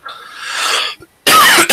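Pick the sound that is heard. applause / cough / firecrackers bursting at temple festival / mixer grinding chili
cough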